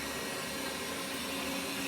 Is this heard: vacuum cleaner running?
yes